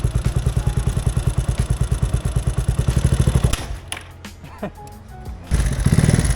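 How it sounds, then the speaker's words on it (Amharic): A motorcycle on a test ride thumps out a loud, rapid, even engine pulse at close range. The engine then drops to a quieter rattle and clatter before revving back up. "ዛሬ ሞተር ላይ ነው። ሞተር እየሞከርን ነው።"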